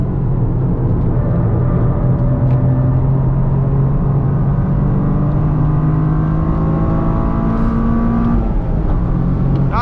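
A 2023 Toyota GR Corolla engine pulling hard under acceleration, heard from inside the cabin as a loud, continuous drone rising steadily in pitch through the gears, with rough turbo-four character filling the whole clip.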